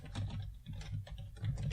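Keys tapped on a computer keyboard during a Java programming session, soft irregular clicks in short runs over a low steady hum, fairly close and quiet with no speech.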